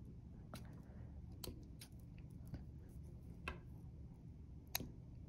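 Scissors snip pom-pom bunny whiskers to length, a handful of faint, crisp cuts spaced irregularly over quiet room tone.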